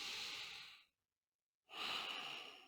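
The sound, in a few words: exhaling breath during stretching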